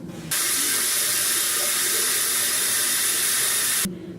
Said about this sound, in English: I am going to wash my face.